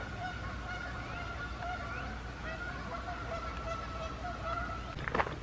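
A flock of geese honks continuously at a lake in a forest park on a spring morning, the calls faint and distant over steady outdoor ambience, with a brief louder rustle near the end.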